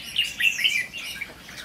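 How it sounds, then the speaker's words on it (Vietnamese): White-cheeked bulbuls and young birds call outdoors in a neighbourhood, with quick high chirps and tweets coming in overlapping bursts, loudest in the first second and fading toward the end, with no talk. "Có cả má trắng, có cả chim non."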